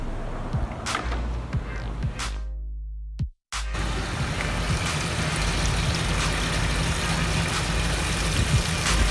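Car engine idling during a home coolant flush, a steady low rumble joined by rushing fluid, broken by a brief gap early on before the continuous hum resumes.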